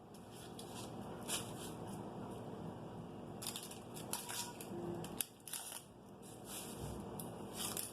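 A knife cuts through an onion on a board, giving a run of crisp, close slicing and chopping crunches with short pauses between strokes and no talk.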